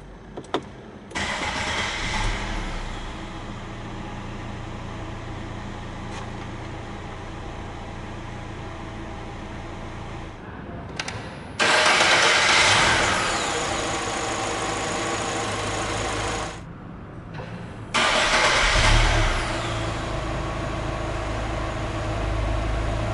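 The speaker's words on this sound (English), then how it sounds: "hit this engine start stop button to fire up the engine" A 2022 Chery Tiggo 2 Pro 1.5 engine cranks via push-button start and fires up, then settles into a steady idle; the rumble cuts out and restarts a couple of times.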